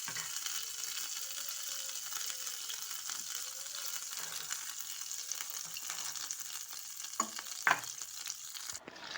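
Butter simmering in a pan as it is cooked down into ghee, giving a steady, close frying sizzle with soft bubbling throughout and a few brief clinks near the end.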